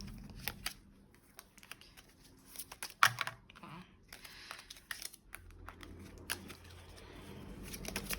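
Tarot cards shuffled and handled during a reading, soft papery flicks, riffles and light taps scattered through a quiet stretch, with one sharper snap near the middle.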